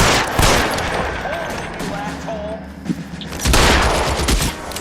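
Gunshots in the 1940s Los Angeles crime game L.A. Noire, loud bursts of firing at the start and again near the end, with a quieter stretch between, close and sharp.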